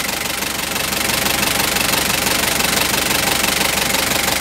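Steady idling diesel engine of a 2009 Thaco Foton truck, close by, with an even knocking rumble that holds constant throughout, no talking.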